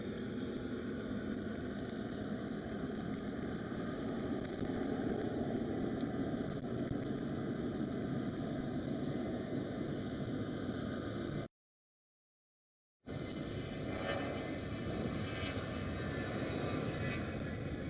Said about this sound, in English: It's a China cargo. And there it is. It's a 777 freighter.